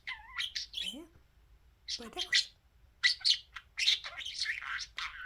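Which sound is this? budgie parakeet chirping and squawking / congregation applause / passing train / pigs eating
budgie parakeet chirping and squawking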